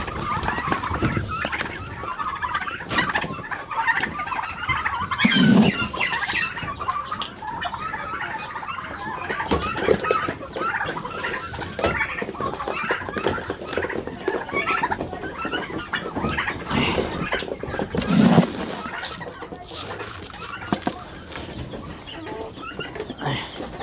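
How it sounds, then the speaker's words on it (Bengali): A small flock of five to seven chickens cluck and cackle nearby, with a few louder squawks rising over a continuous busy murmur of hen calls. "এখানে অল্প কয়টা মুরগি আছে"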